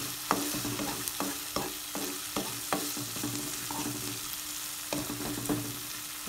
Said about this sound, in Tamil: கொத்தமல்லி, புதினாவை ஆட் பண்ணிவிட்டு கொஞ்சம் சால்ட்டு ஆட் பண்ணிவிட்டு நல்லா ஃப்ரை பண்ணி விடுங்க